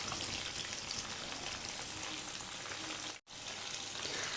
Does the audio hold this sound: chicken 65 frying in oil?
yes